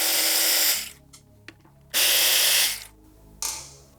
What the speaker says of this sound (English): We have 2 silver color fasteners here that need to come out using a 4mm Allen.